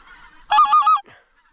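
Geese honk near a hunting blind in Alberta, a short burst of several close, loud nasal calls in quick succession.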